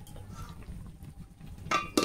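A metal lid clanks onto a cooking pot on the stove, two quick clinks near the end after a stretch of quiet low kitchen rumble.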